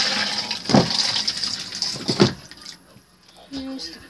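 A toilet flushes inside a camper, a close gurgling rush of water with a couple of louder surges, then fading to quiet before a short mechanical clunk.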